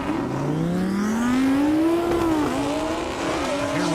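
A Lamborghini and a Camaro race down a half-mile airstrip at a 200-plus mph speed event. One loud, close engine roar climbs steadily in pitch through hard acceleration, continuous throughout.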